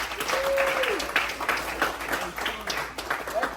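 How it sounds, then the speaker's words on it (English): An audience at a motivational speaking event applauds itself, a moderately loud patter of many claps, with a voice faintly present in the mix. "Give yourself a round of applause."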